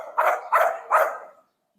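Several dogs bark in three loud, close bursts at a steady pace, heard during a yoga class in Sanlitun, Beijing, then the sound cuts to silence.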